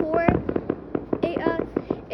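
Canada Day fireworks bursting in a rapid string of sharp pops and crackles, loud and fairly close, with people talking over the blasts.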